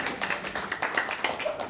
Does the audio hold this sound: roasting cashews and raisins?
no